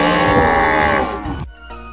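A single long, loud cow moo, close and drawn out, fading at the end with no talk over it.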